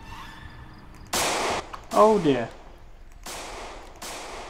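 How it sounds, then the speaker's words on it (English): A few sharp gunshots in the zombie survival game Project Zomboid, separate loud cracks spaced across the moment, with a voice speaking between them. "The gunshot."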